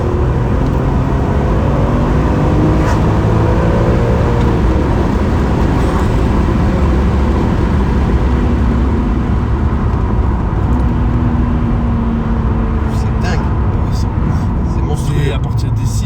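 A BMW M3 E46 engine revs hard and accelerates, a loud, continuous roar rising and holding, with people talking over it inside the car.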